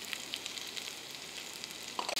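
Onions sauté in a pan for Khandeshi khichdi with a steady, quiet, close sizzle, ending in a brief clatter.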